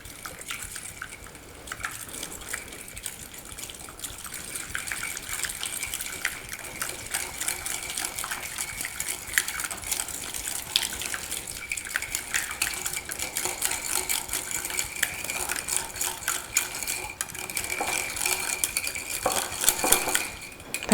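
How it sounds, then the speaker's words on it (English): A whisk beating egg white, sour cream and mustard together in a bowl as a coating for a roast, a rapid, continuous metallic clicking and scraping that grows slightly busier toward the end, with no talk. "So whisk these together until you have one smooth consistency."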